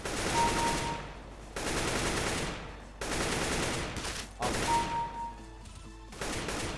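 Automatic gunfire in a CS:GO deathmatch, several sustained bursts of rapid shots separated by brief pauses, loud and close with no talking.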